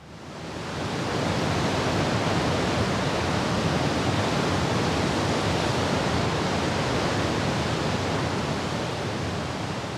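Historical recording of the roaring river waterfall at Celilo Falls, once audible for miles, rising in over the first second into a dense, unbroken rushing roar that stays loud and steady throughout.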